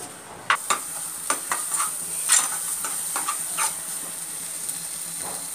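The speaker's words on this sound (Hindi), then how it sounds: "तो खोए को अच्छे से भुनिए बिल्कुल स्लो गैस पे" A spoon scrapes and stirs khoya roasting in a pan over low heat, a soft continuous sizzle with irregular clinks and scrapes; no talking.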